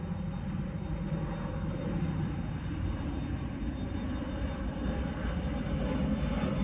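A fixed-wing airplane passes overhead, its steady engine roar filling the air continuously at moderate level with no talk.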